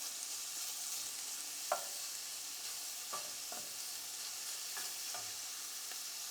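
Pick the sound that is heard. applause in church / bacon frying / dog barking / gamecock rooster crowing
bacon frying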